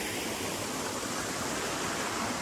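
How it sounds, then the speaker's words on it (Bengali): A small forest waterfall, the hidden Aduri falls in Sreepur, flowing at low water, gives a dense, unbroken rushing hiss that holds at an even level throughout with no voices. "এখন পানি কম, যার কারণে পানির স্রোতটার প্রবাহটা কম"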